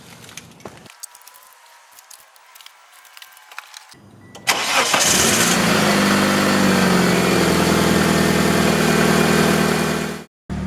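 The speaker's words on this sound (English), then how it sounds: "we are going to try to start the car to make sure we didn't mess anything up" A 2g Mitsubishi Eclipse cranks briefly and catches, then settles into a steady, loud idle that runs for several seconds before cutting off, with quiet rustling before the start.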